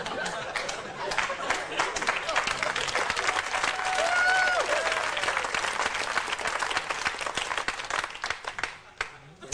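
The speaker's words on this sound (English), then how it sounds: "You clapped too long." Comedy club audience applauding at a stand-up show, a sustained wave of clapping mixed with crowd chatter and a little laughter, rising to a peak midway and then tapering off.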